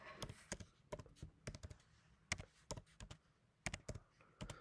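Fingers typing a first name on a computer keyboard, bursts of quick close key clicks with brief pauses between groups, clear and alone.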